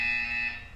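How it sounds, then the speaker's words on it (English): A steady electronic buzzer tone from the Portal 2 video game, sounding alone for under a second at a constant, fairly loud level with no talk. "You will hear a buzzer."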